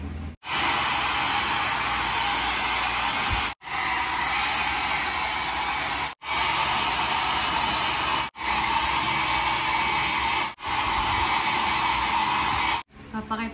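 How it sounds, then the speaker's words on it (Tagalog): A hair dryer blows loudly on freshly bleached, light ash blonde dyed hair in several long, steady bursts, each cut off by a brief pause before it starts up again. "Mag-blower na ako ngayon."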